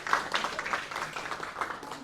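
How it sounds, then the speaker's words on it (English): A small audience claps in a round of applause to welcome a speaker at a community talk, with steady, fairly soft clapping that continues through the whole moment. "we're going to welcome you with a round of applause"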